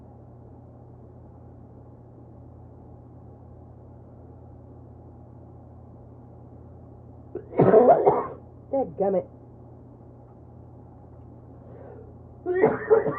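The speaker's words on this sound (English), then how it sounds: "You have to excuse me, I got a little bit of a cough" Two bursts of close, harsh coughing break a quiet, steady background hum, the first a short cluster of coughs and the second a brief final cough.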